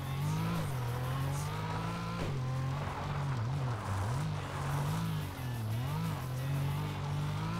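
A Renault 5 engine in the PS2 racing game Tokyo Xtreme Racer Drift 2 drones loud and continuous, its revs rising and dipping through gear changes and cornering, with faint tire squeal along the way.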